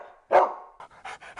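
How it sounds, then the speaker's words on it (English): A dog gives one loud, close bark, then a run of quick, breathy pants in a regular rhythm. "This is my dog. He's a good dog, but sometimes he barks a lot."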